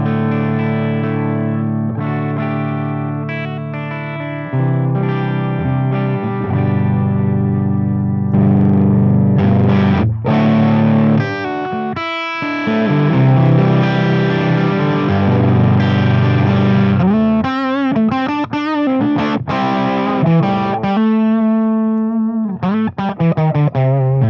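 An electric guitar played through a distorted, reverberant tube amplifier with its bright switch on, giving sustained crunchy chords and single notes with a few pauses and short stops, loud and close with no speech.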